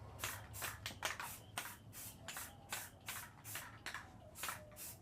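Spray paint hissing on a Nerf Strongarm blaster in repeated short bursts, about ten quick sprays with brief pauses between, close and fairly soft, with no voices.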